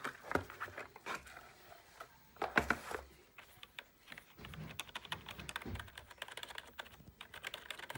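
Keys clack on a wired Asus Cerberus MKII USB keyboard in irregular bursts, some sharp close strokes and quicker runs of typing, fairly quiet with no voices.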